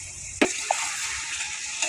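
Soaked, drained chana dal hits a hot pan with a short sharp sizzle, followed by a steady soft frying hiss and a couple of small clicks, close up and without talk.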